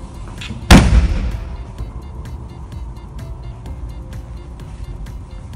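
A rear seat half in a small Peugeot 108 1.0 Active hatchback folds down with one loud, sharp thump, followed by a fading rumble and faint clicks in a quiet interior.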